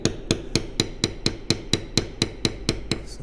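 Steady rhythmic tapping of a metal bevel tool struck by a mallet on leather during floral tooling, about four crisp knocks per second, close and alone with no talk.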